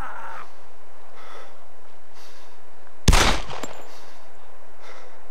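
A single sharp gunshot cracks out in the DayZ video game, loud and close, over a quiet hissing background with no talking.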